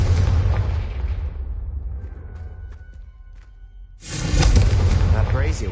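Confringo spell explosions go off in a Harry Potter video game: a loud, booming burst opens, fades into a quieter stretch, and a second heavy blast follows near the end.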